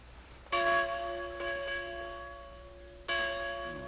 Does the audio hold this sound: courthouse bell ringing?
yes